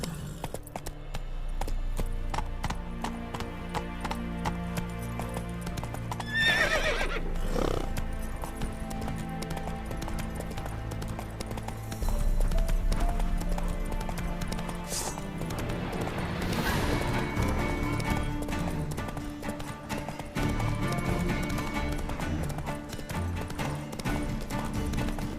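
Horse hooves clip-clopping at a steady gallop in The Witcher 3, with a brief whinny, all layered over a dense, continuous bed of game music and ambience.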